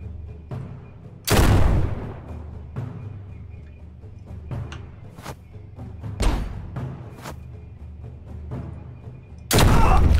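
Shotgun blasts in a police shootout video game: three loud, sharp booms spaced several seconds apart, each with a quick decay, over a low, quiet background.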